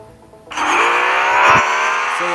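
The Formula 1 Academy car in Real Racing 3 roars loud and close, a high engine whine rising in pitch as it accelerates, with a brief tyre or gear blip partway through.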